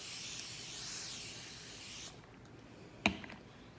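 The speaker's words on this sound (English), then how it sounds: "I'm gonna wet it with my spray bottle from root to tip." A spray bottle mists water onto hair locs in a steady hiss lasting about two seconds, then falls quiet before a single sharp click near the end.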